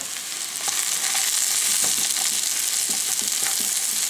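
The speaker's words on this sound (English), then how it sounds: "the mushrooms have been cooking now in that oil" Mushrooms sizzle in olive oil in a pan, with onions, for a chicken and mushroom pie: a close, steady hiss of frying with a few soft scattered pops.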